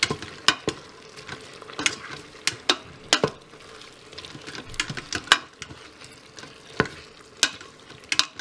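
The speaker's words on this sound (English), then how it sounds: "now we're adding the soy sauce in, and we're going to mix that up" A utensil stirs soy sauce into beef stroganoff inside a Cosori pressure cooker, giving irregular sharp scrapes and clicks against the pot over a soft steady sizzle.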